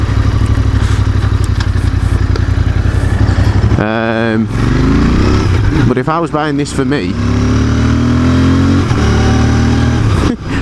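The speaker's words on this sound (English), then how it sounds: "that engine note's brilliant" A Royal Enfield 650 twin engine drones loud and close throughout, a steady harmonic roar with a brief dip and rising rev around the middle, while someone talks over it.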